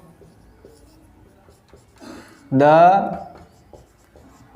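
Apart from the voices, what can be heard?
writing the next sentence on a board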